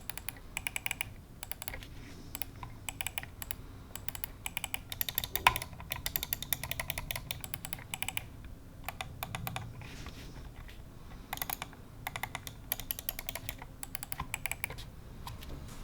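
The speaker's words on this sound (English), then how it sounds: "The left and right clicks have a satisfying sound with consistent performance and relatively easy actuation." A Logitech G203 Lightsync gaming mouse is clicked with its left and right buttons in rapid bursts of crisp, close ticking, pausing briefly between runs over a low background hum.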